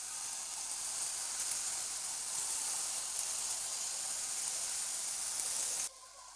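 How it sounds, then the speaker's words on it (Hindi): Chickpeas frying in hot oil for a dhaba-style chana fry, a steady loud bright sizzle that holds evenly for several seconds and then drops off abruptly to a faint hiss. "अब हम इसके अंदर चना डाल देंगे,"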